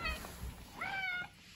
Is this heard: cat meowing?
yes